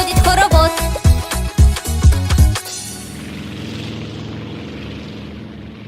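A propeller airplane engine drones with rhythmic bursts that build, then settles into a steady, faster whooshing roar as it speeds up, played during a children's music lesson.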